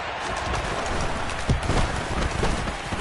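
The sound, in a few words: rain falling during a football game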